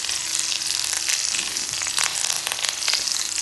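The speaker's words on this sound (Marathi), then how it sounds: "त्यानंतर आता आपण मिरची तेलात परतून घेत आहोत" Green chillies sizzle and fry in hot oil for poha chivda, a steady dense crackle with brief louder spits, close and continuous with no talking.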